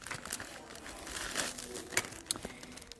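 Paper plates handled for a paper plate dragon craft, giving soft, close crinkling and rustling with a few sharper crackles, quiet throughout and without speech.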